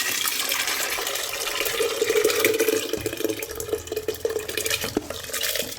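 Rice, lentils and water poured together into a pressure cooker, a steady watery splash and slosh running the whole time with no talking.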